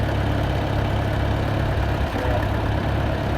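A farm tractor's engine idles steadily nearby, a continuous low rumbling drone with even vibration and no change in pace.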